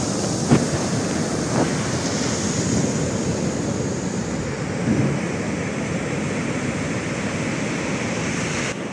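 Sea waves roll in at the shore during a tidal field study, a steady broadband wash with wind noise across the microphone, swelling slightly at a few points and staying continuous throughout with no voices.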